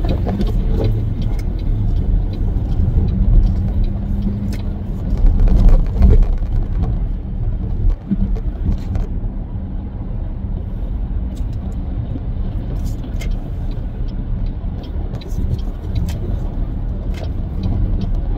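Steady road traffic on a freeway, a continuous low rumble of passing cars heard from inside a moving vehicle, with brief louder swells as vehicles go by.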